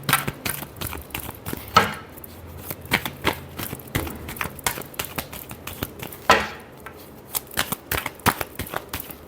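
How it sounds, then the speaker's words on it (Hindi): Tarot cards being shuffled by hand in a quiet room, a close, crisp run of rapid riffling flicks and soft taps with brief pauses, louder bursts near the start and middle. "Last shuffle."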